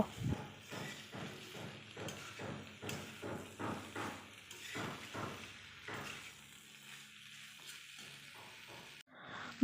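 Vegetables and spices for a paneer dish are stir-fried in a pan, a soft sizzle under a steady rhythm of spatula scrapes, fairly quiet and close, with no one speaking.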